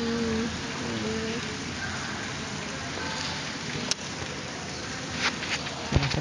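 Early-morning rain falling outdoors, a constant faint hiss of drops on surfaces, with a few small knocks and a soft thud over the steady patter.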